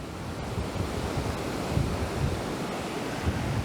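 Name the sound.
strong wind by Lake Superior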